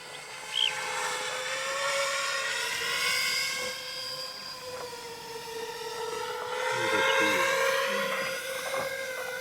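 A helicopter comes in to land near Mount Merapi in strong wind. The rotor and turbine whine is loud and steady and close by, rising and falling slightly in pitch as it sets down.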